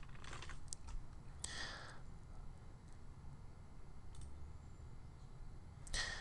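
Computer mouse clicks and keyboard taps come in sparse, faint, sharp bursts over a low steady background hum, close by but quiet, with no voices.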